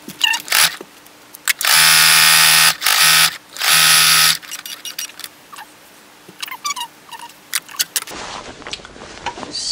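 A sewing machine stitches a fabric loop in short loud bursts of rapid whirring, stopping and starting three times, followed by quieter handling clicks and rustles.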